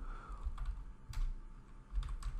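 Keystrokes on a computer keyboard while a command is typed in a terminal, a few quick soft clicks in short bursts, close and fairly quiet, with no talking.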